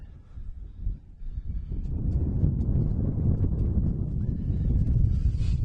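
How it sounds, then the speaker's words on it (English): Steady wind buffets the microphone at an outdoor softball game with a low, rumbling roar that builds and holds, loud and continuous with no voices. "Still windy."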